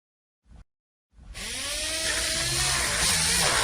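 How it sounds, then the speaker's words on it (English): A dental polisher cleaning teeth before braces are fitted: a brief click, a pause, then a steady high-pitched whirring motor that keeps running, loud and close, with no voices. "Run the polisher over the teeth to clean them."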